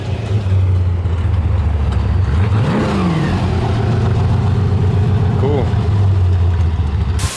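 A 1991 Toyota pickup with a Chevy 383 V8 stroked to 396 idles low and steady, then revs up and back down around the middle before settling into a rumbling idle again.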